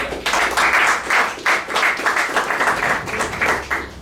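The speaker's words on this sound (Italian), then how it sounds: "lo accoglierei con un applauso" An audience applauds in warm, bursting waves of clapping for president Giuliano Boscolo at a tourism event, steady and close for several seconds.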